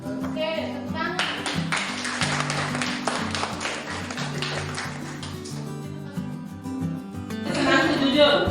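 A classroom of students claps their hands in a lively burst of many overlapping claps, sounding near and steady over several seconds, with tonal background music running underneath and a brief bright flourish at the end.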